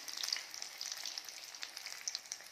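Fresh corn balls deep frying in hot oil on low to medium heat, giving a steady, close, even sizzle with fine crackling bubbles throughout and no talking.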